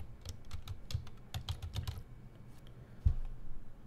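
A burst of rapid keystrokes on a computer keyboard as a report name is typed in, a quick irregular clatter that slows, then one heavier key tap near the end, with no voices.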